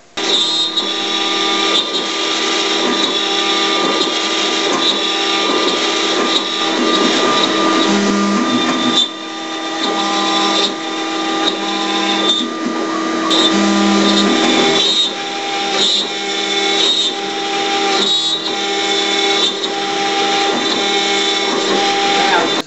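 Power tool cutting 3/8 inch maple into small inserts for custom end tables in a furniture workshop, a loud steady machine whine running continuously with brief dips between cuts, under faint background noise.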